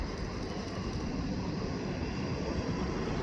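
Airplane at Incheon Airport: a steady broadband jet engine roar, continuous and fairly even across the whole stretch, with no talk.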